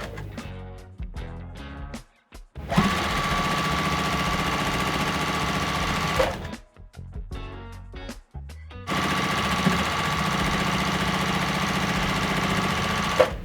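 A sewing machine stitching quilt blocks together into rows, running in long steady bursts of rapid, loud mechanical rattling with brief pauses between seams.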